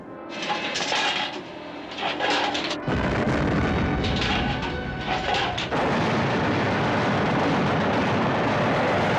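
Naval guns blast in a WWII Pacific war film sea battle, heavy booming volleys and rumbling explosions merging into a dense continuous roar of combat.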